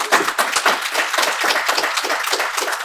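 A convention panel audience breaks into sustained applause, dense overlapping hand claps filling the room at a steady, loud level with no talk over it.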